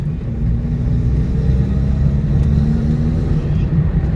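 A 1974 Honda Civic engine, not yet fully warmed up, drones with a steady low rumble while the car is driven, loud and constant throughout with no talking.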